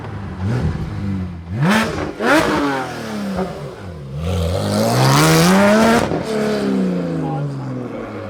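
A Porsche GT4 engine with a Soul Performance valved exhaust revs hard several times, each pitch sweep rising and falling, close and loud, with a sharp crackle between pulls.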